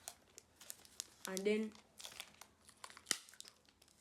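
Pieces of tape are pulled and torn while making a paper plane: a short, squeaky, strained rip in the middle, set among soft crinkles and quiet speech, with a sharp snap shortly after.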